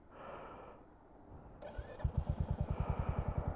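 Royal Enfield Hunter 350 single-cylinder motorcycle starting up, a brief whir then a close, steady thumping idle with an even pulse of regular beats, heard alone.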